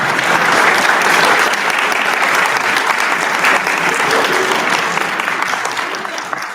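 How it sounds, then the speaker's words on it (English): Loud, dense applause from a panel discussion audience, continuous clapping from many hands that holds steady before tapering off near the end. "Let's hear another round of applause."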